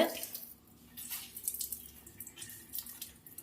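Water pours from a tumbler onto a kitchen cleaning sponge, a faint, steady trickle and splash with small irregular drips over soft background hiss, no voices.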